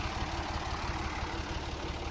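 A tractor engine runs in a mud hole of waterlogged grassy ground, giving a steady, close, low rumbling drone with a fast, even pulse and no talk.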